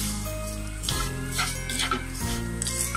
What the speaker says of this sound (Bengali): সেমাইটাকে আমি একটু ভেজে নিচ্ছি।